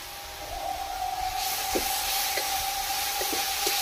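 Ginger garlic paste sizzles in a pan of oil while doi chingri, prawns in yogurt, is being cooked, giving a steady close hiss with a few faint crackles throughout.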